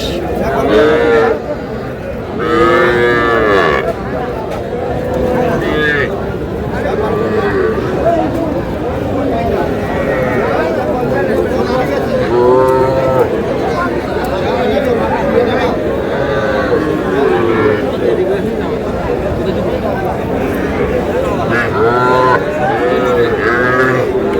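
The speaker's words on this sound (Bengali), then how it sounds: "ষাঁড় বাচ্চা।" Several cattle, including young bull calves, moo again and again, near and mid-distance, amid constant crowd chatter and people talking throughout at a cattle market.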